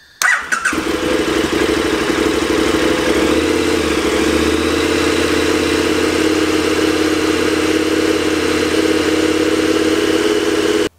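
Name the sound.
motorcycle engine revving to 2,000-2,500 RPM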